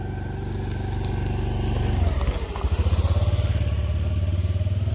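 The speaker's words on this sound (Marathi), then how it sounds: "गाडी आली बघा गाडी" A motor vehicle chugs close by at a mountain base resort, its engine throbbing steadily, wavering briefly midway, then pulsing on at a strong, even rhythm.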